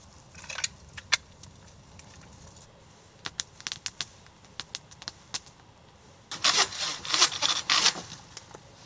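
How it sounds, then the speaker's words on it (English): Hand saw cutting through half-dead beech wood for firewood outdoors in winter, heard as scattered short rasping strokes that build into a fast, loud run of close sawing strokes near the end. "so now we are cutting this half-dead beech which was sticking in the ground"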